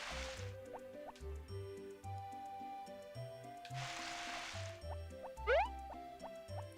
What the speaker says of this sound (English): I think I might water some of that grass too